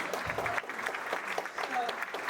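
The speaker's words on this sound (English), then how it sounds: "Big round of applause." Round of applause from a town hall audience, dense clapping with a few brief voices mixed in, moderately loud and steady.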